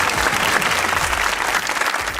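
A studio audience at a Pakistani comedy talk show breaks into loud, dense applause, steady clapping filling the room without pause.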